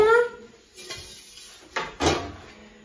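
A silicone baking mat and a second aluminium baking sheet flipped over a meringue give a few light clattering knocks of metal on the counter, with a sharper clank near the end, close and otherwise quiet.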